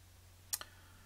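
A single mouse click, a quick close double tick on the WeTransfer transfer button, crisp and brief in an otherwise quiet room.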